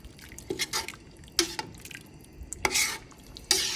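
Arborio rice for risotto Milanese being stirred in a pot, with irregular bursts of scraping and light clinks against the metal over a soft background sizzle.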